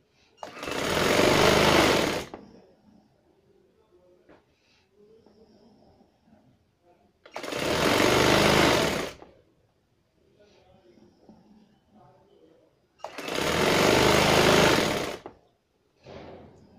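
A sewing machine runs a trouser hem in three loud bursts of about two seconds each, evenly spaced, with soft talking and fabric handling in the quiet gaps between.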